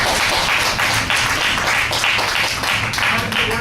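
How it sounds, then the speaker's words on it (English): A church congregation gives loud, sustained applause, many hands clapping densely throughout, with a few voices mixed in. "So applaud yourselves on that one."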